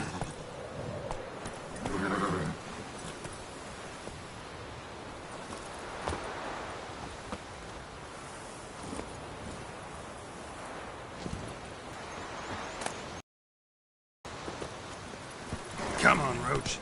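Hooves of the horse Roach in The Witcher 3, a steady soft trotting over ground with rustling ambience that stays fairly quiet throughout, with a brief gap near the end.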